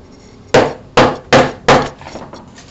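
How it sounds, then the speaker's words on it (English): Four sharp, hard strikes of a butter knife jabbed into a wooden desk, spaced unevenly about every half second, loud and close with no talk over them. "Or me stabbing my desk. I always stab my desk."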